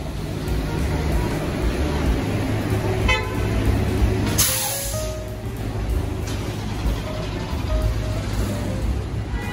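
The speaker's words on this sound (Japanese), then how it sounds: "日頃はマーサーストリートがこんなに車で渋滞することはそれほど多くないのですが、今日は大渋滞です。" Heavy jammed car traffic on Mercer Street in SoHo, New York, rumbles steadily, with occasional short horn toots cutting through the constant street noise.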